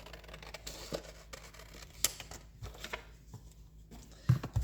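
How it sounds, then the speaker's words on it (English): Scissors cutting a flap off a brown journal card, a series of soft, close paper snips and rustles at an uneven pace, followed by a couple of heavier handling thumps, with no talking. "I'm just going to cut this flap off."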